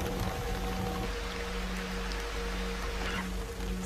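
Rain begins to fall in the jungle, a steady soft patter of drops on leaves and surfaces, even and continuous, with a faint tonal hum underneath and no voices.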